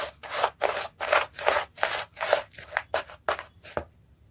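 Dry roasted coconut is mixed with sugar for mukhwas, giving repeated rhythmic scraping and rustling strokes, close and moderately loud, with no talking.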